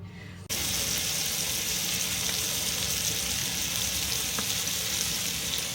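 Bacon-wrapped filet steak fries in a pan, a steady close sizzle that starts abruptly after a short quiet moment and hisses evenly throughout, with faint occasional pops.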